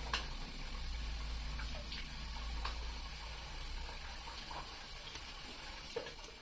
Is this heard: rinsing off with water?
yes